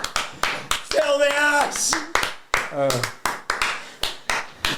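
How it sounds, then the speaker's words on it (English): A small group in a podcast studio claps in scattered bursts. The hand claps are sharp and unevenly spaced, with voices shouting and talking over them in between. "Could I have some applause, some sort of noises to bring me out?"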